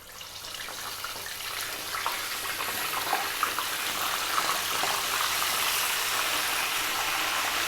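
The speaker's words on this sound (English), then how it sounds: "We're going to drop in our fish." Whole fish sizzling in about half a litre of hot oil, a dense steady crackle and hiss that builds slightly and holds, close and alone with no voices.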